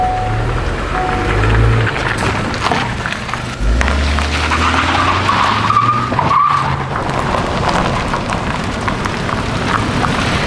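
A 2024 Honda Accord is driven in a loud, close run of tyre skids and engine noise, with rising and falling drive tones and a sharp squeal partway through.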